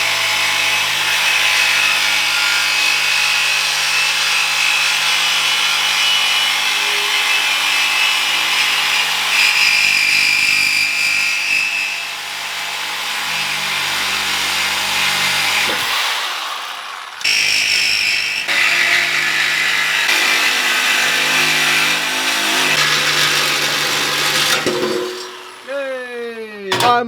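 A power tool saws steadily through a stuck Corsa exhaust pipe on a Ford Raptor pickup, a loud continuous grinding drone that pauses briefly near the end before resuming.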